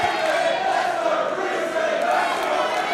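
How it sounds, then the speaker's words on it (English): A crowd cheers at a women's division professional wrestling event, a dense, steady roar of many voices filling the whole span without a break. "Split crowd here, a lot of fans loyal to Bea Priestley"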